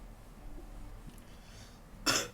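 A single short cough bursts out near the end of a quiet stretch in an Indonesian podcast studio discussion about broadcasting regulation, close to the microphone after near silence.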